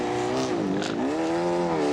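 A rally car spins through a double donut on a forest rally stage, its engine wailing and rising and falling in pitch with a smeared tire squeal over the top. The sound is close, loud and steady throughout.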